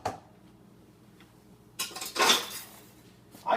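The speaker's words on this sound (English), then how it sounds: "I should take out the metal blender ball." A metal blender ball is pulled out of a container during a dissolving demonstration, giving a brief bright clatter and clink of metal against the vessel after a quiet stretch, with another short knock at the end.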